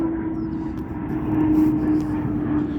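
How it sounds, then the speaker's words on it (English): A large C-5 military transport plane drones overhead, a steady loud engine roar with a sustained hum that swells slightly midway while plane spotters watch. "This is a plane."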